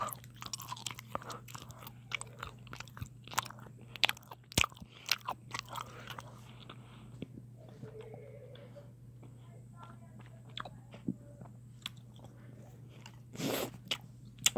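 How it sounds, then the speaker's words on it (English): Caramel is chewed and bitten close to the microphone, with sticky crunches and wet mouth clicks coming in irregular bursts, and a soft voice murmurs now and then between bites. "I'm gonna eat some caramel"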